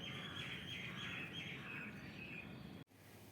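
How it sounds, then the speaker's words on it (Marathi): Birds chirp softly through a morning in Bangalore, their light, high tweets layered over faint background hum until a sudden cut near the end, with no one speaking. "पक्ष्यांचा चिवचिवाटही चालू आहे सकाळचा"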